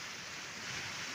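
Large sea waves surge and wash around a small fishing boat at sea off Ternate, Kaybiang, producing a brief, faint, steady roar mixed with wind noise on the microphone.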